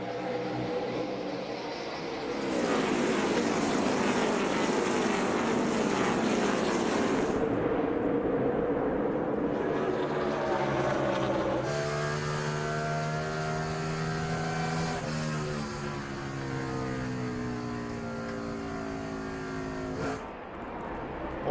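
Race cars roar together at the 2006 NASCAR Subway Fresh 500, a loud, sustained engine drone that rises in pitch as the stock car field accelerates, with swelling and falling tones as cars pass.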